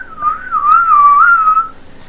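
A single sustained human whistle imitating a market vendor's call, a wavering tone that rises slightly and holds for about a second and a half, loud and close with no talk.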